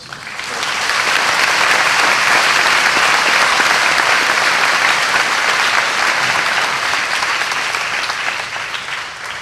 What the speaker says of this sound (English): give a round of applause for everybody that set everything up today